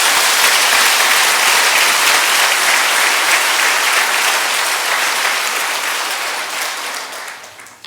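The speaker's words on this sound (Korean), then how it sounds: "우리 격려의 박수 해드리겠습니다." A church congregation gives loud, sustained applause of encouragement. The clapping is thick and continuous, holds steady for several seconds, then tapers and fades near the end.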